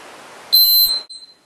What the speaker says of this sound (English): Wait for our timer.